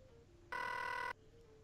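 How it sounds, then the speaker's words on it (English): A cartoonish telephone in a Mickey Mouse video game gives one bright, electronic ring burst lasting about half a second, loud and clear over quiet background music. "Come on, Goofy, answer the phone."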